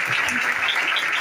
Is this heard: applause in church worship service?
yes